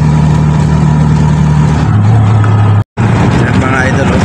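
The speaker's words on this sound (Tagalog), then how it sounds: "Ganyan yung sidecar ko mga idol, no." A motorcycle with a sidecar, loaded with passengers, rumbles loudly and close on an uncrowded provincial road, a steady droning engine note that shifts pitch midway and cuts out for a split second before resuming.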